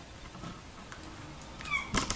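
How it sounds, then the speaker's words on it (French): A pet cat gives two short, faint meows at the end of a quiet indoor stretch, preceded by soft rustling and light movement. "Oui, ça y est, ça miaule."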